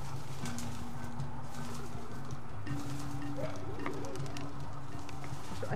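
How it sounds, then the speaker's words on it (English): Pigeons or doves cooing outdoors, a low repeated coo sounding over steady background ambience, with a few higher chirps from other birds. "I hear birds"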